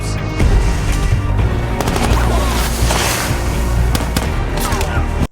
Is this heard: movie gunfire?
yes